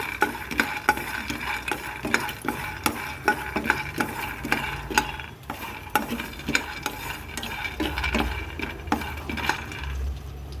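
Peanuts dry-roasting in a pan over a low flame, stirred with a utensil: a steady run of close scraping and rattling strokes, many per second, over a faint low hum, with no voices.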